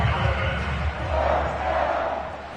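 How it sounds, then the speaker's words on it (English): A football stadium crowd shouts and roars in a dense, continuous wash of many voices, loud and sustained throughout with no single voice standing out. "Plenty of shouts from this crowd as they watch the replay"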